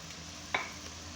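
Quiet, steady sizzle from chicken, hotdog and chili sautéing in a pan, with one brief scrape of stirring midway.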